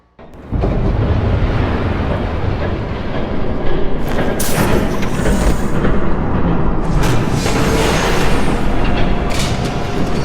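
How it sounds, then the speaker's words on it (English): A train in a Batman game rumbles past close by, loud and continuous, a heavy roar with rattling and clattering wheels that keeps up for about ten seconds with no speech. "There's a train coming."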